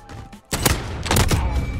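A revolver fires a burst of sharp, close gunshots in a video game. A short quiet gap comes first, then heavy overlapping blasts land in quick succession.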